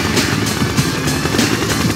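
A Siege Chopper helicopter unit in Red Alert 2 on a Soviet naval mission, its rotor thumping steadily in a close, loud, continuous whir with no voices over it.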